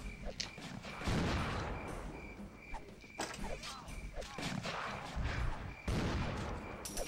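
Cannon fire in a Pirates of the Caribbean action video game: repeated booming blasts and gunfire-like bursts in quick succession, loud and dense throughout, with faint talk mixed in.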